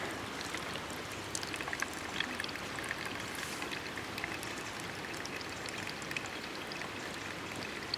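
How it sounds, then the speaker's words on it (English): Hot water poured over coffee grounds in a GSI Outdoors Ultralight Java Drip while camping, a steady close splashing pour that runs unbroken for several seconds with no talking. "Take a few pours here."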